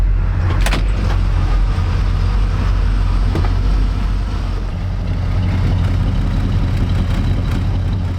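A 1956 Chevrolet Bel Air resto-mod's ZZ4 350 four-barrel V8 idles with a deep, steady rumble, loud and close, with a few faint clicks over the continuous low throb.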